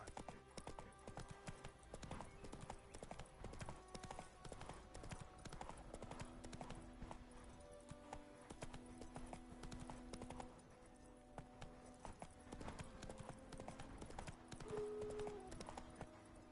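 Roach the horse from The Witcher game galloping, rapid steady clip-clop hoofbeats throughout with a faint musical bed and brief speech.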